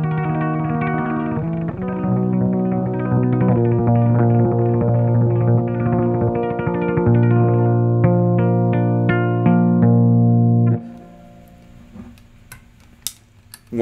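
An electric guitar is played with an elastic tie run through effects, producing dense sustained chorused and distorted notes with echoing repeats for about eleven seconds before a quiet tail of scattered ticks and taps.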